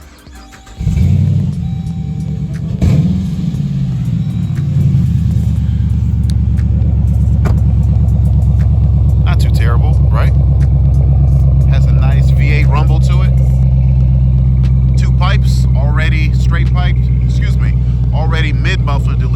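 A Dodge Durango R/T V8 with a mid-muffler delete cranks and starts with a sharp roar, then settles into a loud, deep, steady rumbling idle that continues under someone talking.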